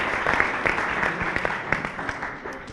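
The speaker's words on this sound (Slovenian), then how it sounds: "Bravo, en aplavz" Audience applause at a startup pitch event, steady clapping from a crowd at moderate level, fairly even across the moment with a few sharper claps, voices faint underneath.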